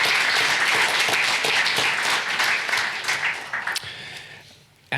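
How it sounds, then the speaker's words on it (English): An audience breaks into a round of applause at a talk on preserving Australian Indigenous languages, dense steady clapping that tapers off toward the end before a final sharp sound. "I think that deserves a round of applause."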